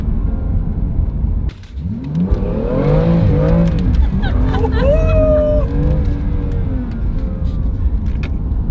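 A loud McLaren 765LT sports car engine revs and accelerates with rising, sweeping tones, rumbling continuously close by while a person talks over it.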